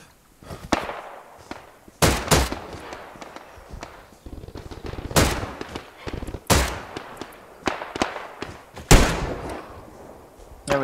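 Gunfire in the video game Hell Let Loose: a string of loud, sharp shots at irregular intervals, with quieter clatter and movement in between and no talk.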